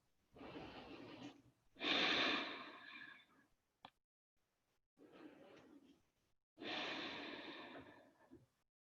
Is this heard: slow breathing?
yes